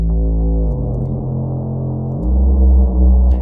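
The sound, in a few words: Reaktor Monarch bass synth processed with R Bass plugin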